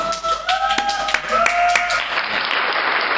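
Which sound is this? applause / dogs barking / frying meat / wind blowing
applause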